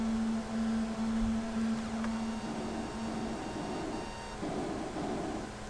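In the video game Bit-Ship, an explosive block's timer counts down as a steady low electronic beep. It sounds in long pulses with short gaps, then fades out under a noisy hiss, with no talking.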